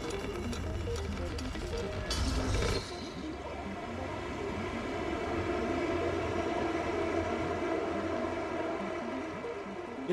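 Metro train ride in the video game Stray, a steady rumbling hum of the moving carriage with a brief louder clatter early on, continuous and moderately loud, with no talking.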